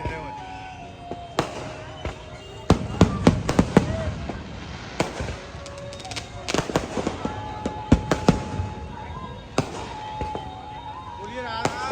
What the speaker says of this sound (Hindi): आतिशबाजी को अद्भुत नजारो आज बरसाना में सभी भक्तों को प्राप्त करे हुए।